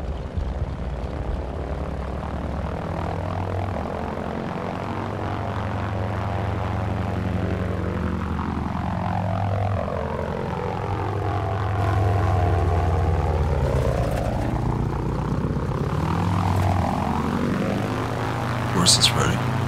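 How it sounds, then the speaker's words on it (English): Two propeller airplanes fly overhead in Battlefield gameplay, their engines droning steadily and swelling louder as they sweep past, with a short burst of sharper noise near the end. "We got two planes up."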